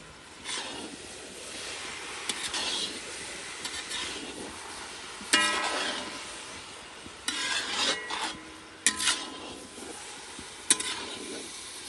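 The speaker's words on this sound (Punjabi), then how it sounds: "ਇਸ ਤਰ੍ਹਾਂ ਇਹਨੂੰ ਮਿਕਸ ਕਰਨਾ ਪੂਰਾ ਮਿਕਸ ਕਰਨ ਤੋਂ ਬਾਅਦ ਇਹਨੂੰ ਥੋੜਾ ਥੋੜਾ ਹਿਲਾ ਕੇ" Grated carrot halwa mixture with khoya is stirred in a pan over low heat, producing quiet scraping and rasping strokes with occasional metallic clinks and a faint sizzle.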